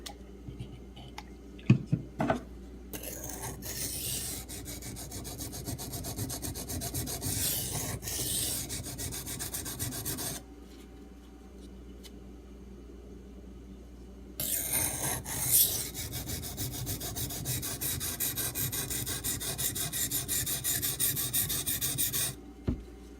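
Steady rasping strokes of a D2 steel Rat 1 knife tip being sharpened on an abrasive, continuous scraping in two long bursts separated by a brief quiet pause, close and fairly loud with no talking.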